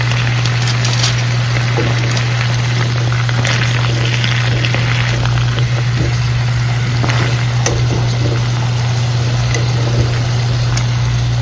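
Pieces of zucchini sizzling in a hot covered pan, a steady, even frying hiss beneath a constant low hum, no talking.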